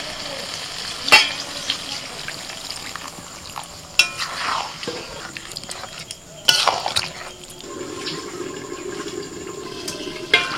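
A spatula scrapes and stirs chicken kosha in a pan before water goes in, giving several sharp clanks of utensil on metal over a low, intermittent sizzle.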